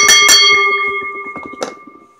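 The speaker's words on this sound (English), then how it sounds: "ring the bell!" A wrestling ring bell clangs twice in quick succession right after a pinfall at an Impact Division Championship match, the struck tones ringing on and sustaining, with a fainter third strike near the end amid a noisy arena.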